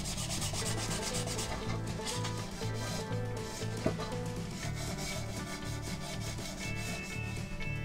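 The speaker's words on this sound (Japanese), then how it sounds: "こうしておくことで240番の粗めのヤスリでガシガシ削っても安心です。" Coarse 240-grit sandpaper scrubs plastic parts of an Aoshima 1/32 4-ton dekotora truck kit in a steady, rapid back-and-forth rasp, close and continuous, with no talk.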